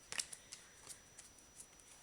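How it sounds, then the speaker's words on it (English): Tarot cards are shuffled in a few quick, soft riffles and flicks, close by and quiet, with brief gaps between the bursts. "Let me shuffle the cards."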